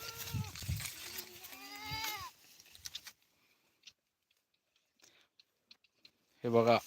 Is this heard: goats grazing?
yes